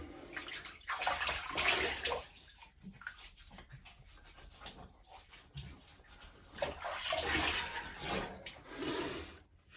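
Water runs from a tap to wet stubble before a shave with a Merkur 34G safety razor, a soft, steady rushing stream that swells and fades in waves, fairly quiet and with no speech.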